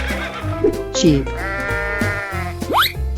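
A sheep in a 3D animal slide video game bleats a long, wavering cry near the middle, set against steady game music and voices.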